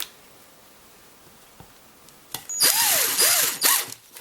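A Dewalt 18V cordless drill drives a 2.5-inch Robertson construction screw into a 2x4, the motor whining up in a few rising surges as the screw bites, loud and close after a quiet start.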